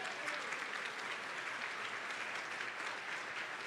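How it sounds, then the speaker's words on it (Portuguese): A church congregation celebrating an anniversary service applauds Jesus, a steady, enthusiastic wash of many hands clapping together, even and sustained in a large room. "A igreja aplaude a Jesus agora."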